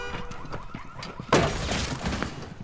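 An in-game alarm blares during a Rainbow Six Siege match, a steady looping electronic tone that jumps louder midway as a sharp burst of gunfire-like noise cuts in over it.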